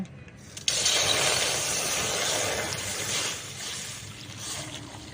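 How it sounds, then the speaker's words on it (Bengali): Milk is poured from a packet into a kadai, making a continuous rushing, splashing flow that starts abruptly and carries on steadily for several seconds. "দুধটা এখন আমি কড়ার মধ্যে ঢেলে দেব"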